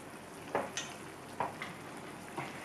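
Two more eggs frying in a home pan: a soft ongoing sizzle broken by three distinct bursts of crackle or spatula scrapes, no voices.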